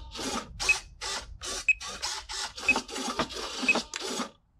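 Servos on a single-motor skirtless hovercraft whir in short bursts as the control surfaces sweep back and forth, about a dozen evenly spaced buzzy pulses close up.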